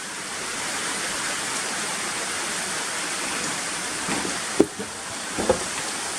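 Steady rain pours down outdoors over ground being cleared, a continuous broadband hiss with a few brief louder knocks or drips near the end and no talking.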